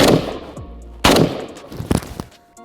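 Gunfire at a marksmanship training exercise, shot from a low firing position: several loud, close, sharp shots cracking out irregularly, with echoing tails between them.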